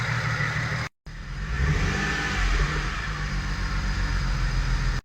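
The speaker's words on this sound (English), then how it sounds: "It is running." A BMW E92 335i from a drift build running after work on it, a steady mid-pitched engine drone with exhaust hum, cutting out briefly near the start and then resuming, loud and close, with a rise in intensity midway.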